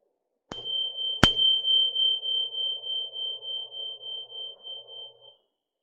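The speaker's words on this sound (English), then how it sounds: "listening to the sound of the bell as it fades" A single meditation bell is struck with a sharp metallic ping, then rings clearly with a pulsing tone that slowly fades over several seconds.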